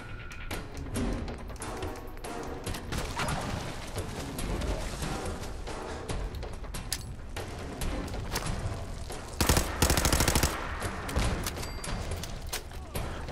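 Rapid gunfire bursts during combat with mirelurks in the video game Fallout 4, dense crackling shots repeating across the whole stretch and peaking in a louder sustained burst near the end.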